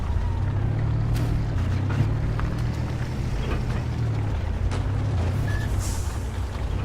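A heavy truck grinding along in top gear in Spintires Mudrunner, a low, dense engine rumble steady and loud throughout, with occasional faint clanks over it.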